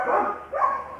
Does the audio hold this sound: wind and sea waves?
no